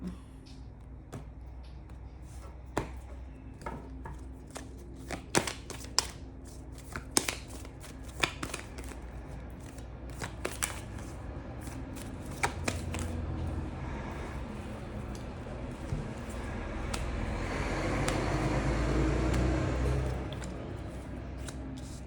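Tarot cards are shuffled with scattered crisp taps and flicks, close up in a quiet room, before a longer, denser rustling swell of shuffling near the end.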